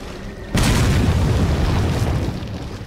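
A grenade in the video game Resident Evil 4 goes off with a sudden, loud booming blast that rumbles on for about two seconds before slowly fading.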